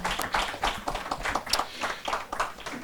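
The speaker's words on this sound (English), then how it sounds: "let's give Cora a round of applause." Scattered clapping from a small audience after a talk on federal education, uneven and fairly soft, with the claps coming in loose bursts rather than a dense roar.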